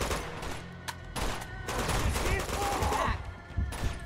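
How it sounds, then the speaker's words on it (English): Rapid gunfire in the video game Uncharted: Among Thieves, dense overlapping shots and bursts that run nearly continuously, with a voice mixed in. "Who's shooting at me?"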